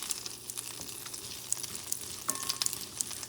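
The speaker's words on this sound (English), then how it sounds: "Preheating, medium high, put your butter. And start melting the butter." Butter melting in a pan preheated over medium-high heat, giving a soft, steady sizzle with light crackles close by and no voices.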